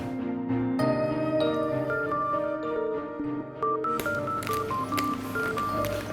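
An electronic phone tone plays a stepping melody of beeps, repeating steadily and clearly, with no one speaking.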